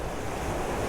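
Ocean waves washing onto the shore at sunset, a continuous rushing surf wash with wind noise buffeting the microphone, steady and fairly loud with no voices.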